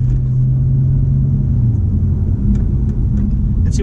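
A 2015 Dodge Charger R/T Scat Pack engine drones as a steady, loud low rumble from inside the cabin while driving on the road, with a few faint clicks over the top.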